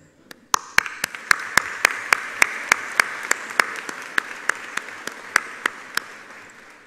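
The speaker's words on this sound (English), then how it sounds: "giving each and every one of you a huge round of applause" A graduation audience claps in a slow, steady rhythm, each sharp clap cracking distinctly over a soft crowd wash and the whole burst holding together for several seconds.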